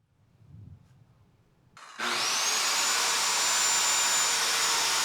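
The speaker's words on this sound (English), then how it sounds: "I'm cutting the 2x6 to create a pair of legs" A power saw cuts through 2x6 lumber for a pair of legs, starting abruptly after a quiet moment with a loud, steady, broadband whine that holds close and constant to the end.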